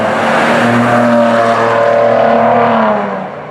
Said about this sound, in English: It sounds really good, which is impressive because this is, at the end of the day, just a V6.